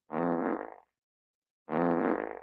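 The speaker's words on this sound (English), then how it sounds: "I'm going to give him 16 farts." Two loud, drawn-out fart sounds, each lasting well over half a second, separated by a clear pause of silence. The sound is close and stands alone.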